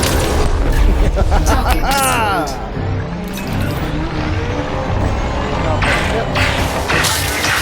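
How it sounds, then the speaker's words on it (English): A missile streaks past and detonates in the space game Elite Dangerous. A booming hit opens the scene, followed by sweeping whooshes and ship rumble, with someone talking over it. "there goes a missile"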